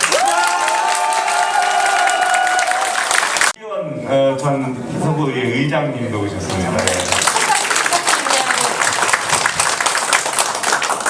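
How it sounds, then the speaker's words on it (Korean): Loud crowd applause fills a press conference for a People Power Party candidacy announcement for Incheon mayor. It breaks off after a few seconds, someone speaks over a microphone, and clapping swells again beneath his voice. "큰 박수 부탁드립니다, 여러분."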